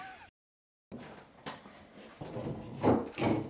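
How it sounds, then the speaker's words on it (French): A soft-close kitchen drawer, handmade, glides shut on its runners with a muffled wooden slide and gentle rumbling settle, a few soft knocks near the end, close up and without talk. "Ça y va doucement, doucement. C'est très soft close."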